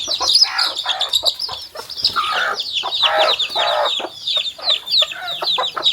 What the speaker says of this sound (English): See all our chicken.